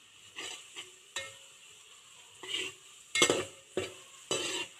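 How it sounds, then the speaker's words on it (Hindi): Onions brown in a pan for a vegetable pulao, giving a faint background sizzle broken by about seven short scraping stirs of a spoon, irregularly spaced, with no talk. "यहाँ पे हमारा प्याज ब्राउन होना शुरू हो गया।"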